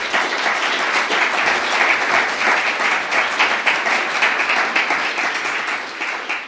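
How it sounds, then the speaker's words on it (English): An audience at a policy think-tank talk applauds with loud, dense, sustained clapping that holds steady for several seconds before tapering off at the end. "Please give a round of applause."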